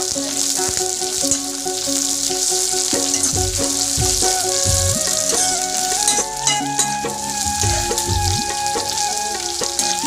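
Tomato and onion fry in hot oil while a spoon stirs them, a bright continuous sizzle broken by several clanks and scrapes of the spoon against the pan, close and without speech.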